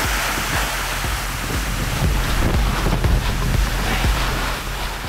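A fire hose sprays a powerful water jet with a dense, steady rushing hiss that holds loud and close throughout, rumbling underneath and with no talking.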